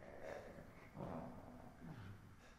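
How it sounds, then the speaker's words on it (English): A monster in the horror game Resident Evil 7 growls low in a few rumbling, breathy pulses, muffled and fairly faint against a dim background. "Did you guys hear that fucking growling?"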